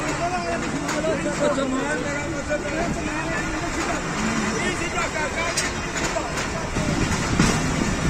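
Pakistan Express passenger train pulling out of Alipur Chatha station in Pakistan, a steady rumble and rattle of the moving carriages throughout, with a crowd of voices and arguing chatter mixed in over the noise.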